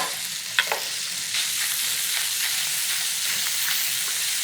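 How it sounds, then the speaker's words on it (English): Pancetta fries in olive oil in a pan, giving a steady, close hiss of sizzling fat with a couple of brief stirring clicks near the start. "In the olive oil, pancetta. And we'll just let that brown a little bit."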